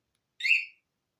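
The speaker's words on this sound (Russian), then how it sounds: "Ставим на сигнализацию." A Bajaj Boxer motorcycle alarm, armed from its remote, gives a single short, high chirp in otherwise silent surroundings.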